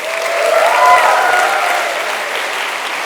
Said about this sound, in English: So, a huge ovation to the organization.